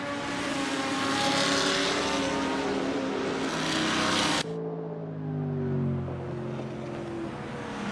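Race car engines at Spa in Assetto Corsa, running with GT Legends cars behind a safety car, roar loudly and continuously with revs rising and falling. Mid-clip the sound cuts to a lower, droning engine note.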